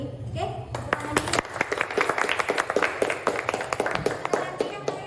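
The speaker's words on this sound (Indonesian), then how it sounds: "Oke, tepuk tangan dulu." A group at a school competition claps in scattered, sharp bursts that build into sustained applause, with a voice speaking briefly at the start.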